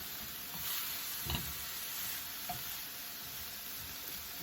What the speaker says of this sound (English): I want to cook this until the onions are soft and lightly browned.